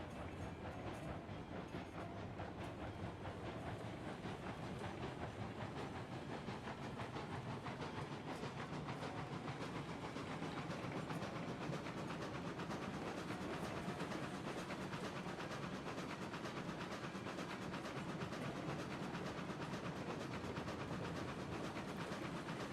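Steam locomotive in the RAILROADS Online video game running steadily throughout, with a continuous chuffing, clattering rail rumble and a soft hiss of steam, loud and close with no talk.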